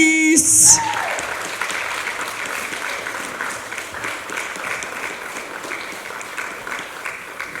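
A talent show audience in Wales gives a big round of applause for the singer Grace. A short musical sting opens it, then sustained clapping and cheering carries on steadily for several seconds.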